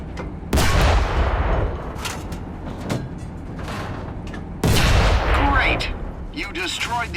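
Tank cannon fire in the War Thunder video game: two loud, heavy booms a few seconds apart, each ringing out over a rumbling battle backdrop with lighter shots between, and a voice speaking underneath.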